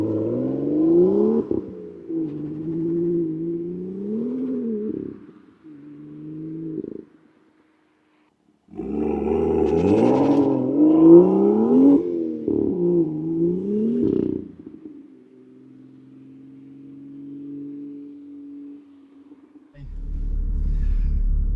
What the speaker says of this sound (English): So I'm going to accelerate from the stop now, and we'll see how this will compare.